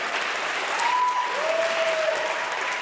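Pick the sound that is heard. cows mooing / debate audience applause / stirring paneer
debate audience applause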